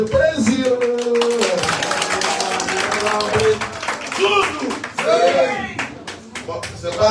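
A conference audience claps, with rhythmic, somewhat uneven clapping mixed with voices and chatter throughout.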